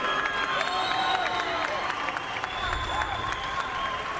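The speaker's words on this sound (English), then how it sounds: "a round of applause for the brave Alpay Kobal" A boxing arena crowd applauds and cheers after the Alpay Kobal versus James DeGale fight, a steady wash of clapping and crowd noise under musical tones.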